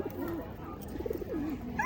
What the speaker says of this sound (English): I want to feed this pigeon. They're still fighting over it.